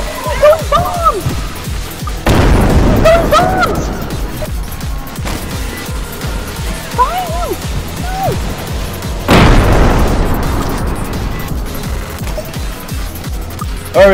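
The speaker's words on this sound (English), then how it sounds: "He's throwing bombs!" Bombs thrown by the giant in the video game Content Warning explode in two big, loud booms several seconds apart, each with a rumbling tail, while excited voices shout over the noise.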